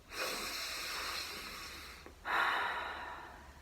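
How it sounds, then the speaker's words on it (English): Two deep breaths are taken in through the nose and out through the mouth, each a long, close, airy rush of breath separated by a short pause, with no talking. "And you take 2 deep breaths."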